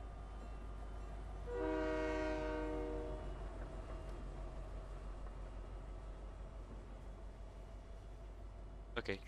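A video game train sounds its horn in a sustained blast of stacked tones lasting about two seconds, over steady rumbling game noise, followed by a brief clatter near the end.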